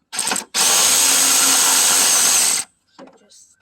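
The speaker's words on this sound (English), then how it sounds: "I take out the 10mm bolts, holding the oil cooler." A power tool buzzes in a short burst, then runs in a long, loud whir for about two seconds while backing out 10mm bolts holding an oil cooler on a Chevy C3500 6.5L diesel, followed by faint clinks.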